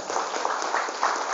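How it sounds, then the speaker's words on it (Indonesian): Audience clapping at a motivational gathering for students' guardians at an Islamic boarding school, a dense, even patter of many hands at moderate distance, with no voice over it. "Tepuk tangan untuk kita semuanya hari ini"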